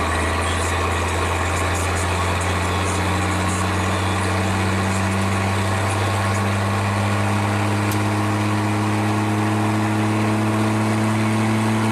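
A car engine after an ignition upgrade idles steadily and loudly at close range, its low, continuous hum holding firm for the whole stretch with no talk over it.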